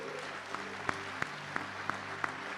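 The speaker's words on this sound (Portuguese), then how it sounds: "Você não vai aplaudir a Deus, não?" A church congregation claps during a sermon. A few faint, evenly spaced claps sound over a sustained musical tone in a quiet hall.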